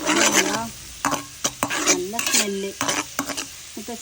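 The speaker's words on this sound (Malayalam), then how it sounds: "ആദ്യം ഇഞ്ചിയും വെളുത്തുള്ളിയും ചതച്ച് വെച്ചത് ഇടുകയാണ് കേട്ടോ ഇതൊന്ന് നല്ല മൂക്കട്ടെ കേട്ടോ" Crushed ginger and garlic frying in a pan while being stirred, with irregular scraping and clattering strokes of a utensil against the metal over a soft sizzle, close and fairly loud.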